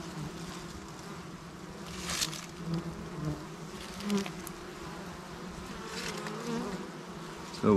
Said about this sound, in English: Bees are starting to get a little bit curious.